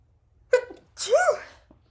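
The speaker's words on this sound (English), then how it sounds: "little sneeze coming" A single close sneeze: a short sharp intake followed by a louder, breathy burst, then quiet.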